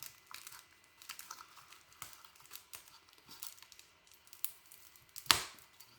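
A sticker package is unwrapped and peeled, giving faint, scattered crinkles and small plastic clicks close by, with one sharper tearing snap near the end.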